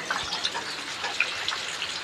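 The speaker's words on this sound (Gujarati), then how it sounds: "આજે વરસાદ પડી રહ્યો છે," Steady rain falls in a village, a dense even hiss with scattered drops ticking close by, and no voices.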